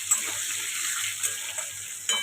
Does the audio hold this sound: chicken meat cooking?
yes